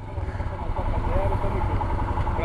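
A Royal Enfield Himalayan motorcycle idles with a low, steady, throbbing engine note close by, while people talk over it.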